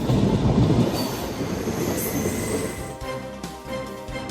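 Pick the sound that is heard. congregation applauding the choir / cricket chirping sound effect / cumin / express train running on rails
express train running on rails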